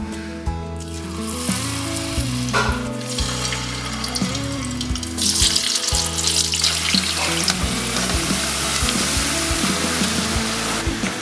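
Potato chips blanching in a wok holding a couple of litres of hot oil at 160 degrees, a dense continuous sizzle and bubbling that swells louder partway through, close and sustained.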